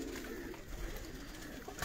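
Pigeons kept by a breeder in Lahore coo softly in a low, rolling murmur against faint background noise.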